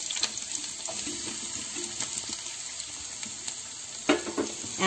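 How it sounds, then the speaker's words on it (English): Onion and garlic sautéing in hot oil over a medium flame, a soft continuous sizzle with light scraping stirs and a louder clatter of utensil near the end, no talking. "And I'm going to saute this for around 2 minutes."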